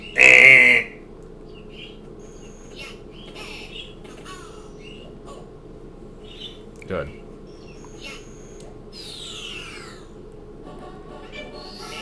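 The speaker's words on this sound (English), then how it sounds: "the birds and the crickets out here just sound like error beeps" Chirpy electronic bird calls and cricket-like beeps in the Super Mario 64 DS game, faint and scattered against a quiet backdrop, with a brief loud burst at the start and someone speaking once.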